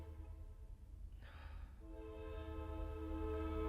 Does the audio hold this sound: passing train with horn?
yes